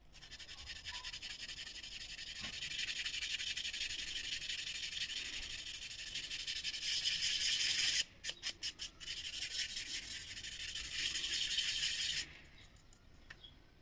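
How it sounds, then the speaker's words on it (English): Steady scratchy scraping as panel lines are scribed into a 1/24 Toyota Supra GT-300 model body with a 0.2mm scriber, close and continuous, breaking into short strokes near the end before quieting. "Scribing the panel lines was the next job"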